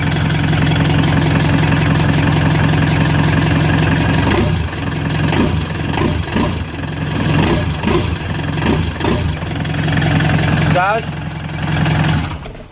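A Fiat Ducato diesel van engine idles with a steady low rumble during a DPF burn-off after an engine rebuild, then turns rougher and uneven partway through as people talk nearby.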